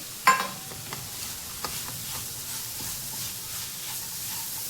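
A jaggery, cashew and almond mixture stirred and roasted in a pan, with soft scraping strokes and a faint steady sizzle, one sharper clack near the start, no talking.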